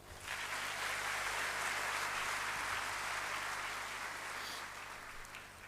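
Sustained audience applause as the minister of national education hands certificates to top-ranked students at a ceremony. A thick, even roar of clapping holds steady for several seconds, then eases slightly near the end.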